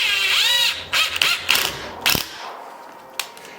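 Screws are run into threaded studs for a Cerwin Vega LS 12 speaker rod, giving close, rasping ratchet-like turns and a high whine, then a few short clicks and knocks.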